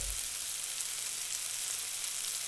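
Chicken stock boiling hard in a pot for chilli chicken after vinegar is added, a steady close hiss and bubbling sizzle that holds evenly throughout with no talk.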